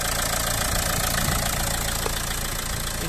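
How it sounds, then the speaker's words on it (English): Nissan Juke 1.5 dCi diesel SUV engine idling steadily and close, a smooth, even running note with a faint rhythmic diesel clatter and no talk. "Engine sound nice and smooth, clean"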